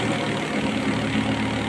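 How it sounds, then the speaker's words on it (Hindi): A 29-horsepower Mahindra 265 DI tractor drives a 25 HP thresher, giving a steady loud low engine drone with a constant mechanical whir and no pauses or voices. "देखिए महिंद्रा 265 TI ट्रैक्टर है, 29 हॉर्स पावर ट्रैक्टर है और 25 HP की थ्रेसर"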